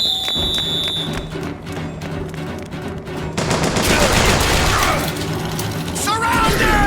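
Loud gunfire in BioShock Infinite breaks out after a mechanical clatter and ratcheting, with a dense, continuous barrage of shots and ringing echoes as voices shout among the noise.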